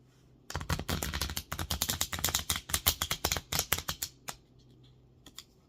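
Small oracle cards shuffled by hand in a rapid, even run of crisp riffling slaps lasting several seconds, close up, ending with a few scattered taps.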